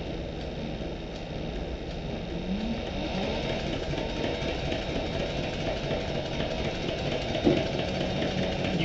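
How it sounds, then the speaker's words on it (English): A sewing machine backstitches along the seam of a cork-covered clutch, giving a steady, continuous mechanical whir and chatter at moderate level with no talking. "I'm going to backstitch first, all the way up to that corner where the other piece was"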